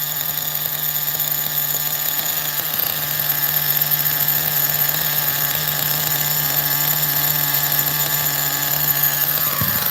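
A nitro RC car's OS glow engine runs steadily at a constant high-pitched buzzing whine for the whole stretch, loud and close with no pauses.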